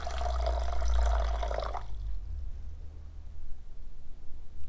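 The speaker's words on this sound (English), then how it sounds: "for our single stage, we're going to go ahead and add our reducer" Reducer pours into a car paint mixing cup in a short liquid trickle lasting about two seconds, close and fairly clear, then stops and leaves faint room noise.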